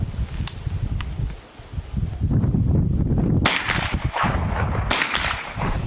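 A vintage Marlin Model 45 Camp carbine in .45 ACP fires at targets 25 yards away, with two sharp, loud reports spaced a couple of seconds apart amid outdoor rustling and handling noise.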